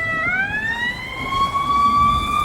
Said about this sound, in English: There goes the Memphis Fire Department.